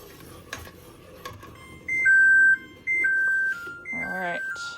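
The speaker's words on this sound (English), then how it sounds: "We're gonna set our timer" A kitchen timer being set to one minute while jelly boils, giving a few short electronic beeps in separate bursts, fairly close, with faint background noise and a brief voice at the end.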